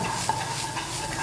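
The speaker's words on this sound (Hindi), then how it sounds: "दो से 3 मिनट आपको इसको अच्छे से भूनना है" Potatoes and onions fry in a pan for an aloo sabzi, with a continuous sizzle and the scrape of stirring, close and moderately quiet, with no voices.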